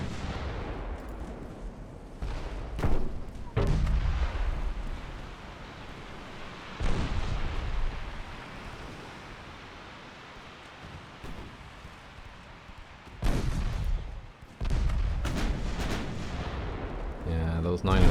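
Naval 9-inch guns firing in the Ultimate Admiral: Dreadnoughts warship game, several heavy booming salvos spaced seconds apart, each with a rolling low rumble and crackle that fades into steady background ambience.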